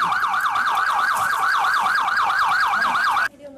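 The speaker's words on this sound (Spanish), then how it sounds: "Llegó la ambulancia y el joven fue evacuado a un hospital." An ambulance siren wails loud and close in rapid rising-and-falling sweeps, repeating steadily for about three seconds before cutting off abruptly.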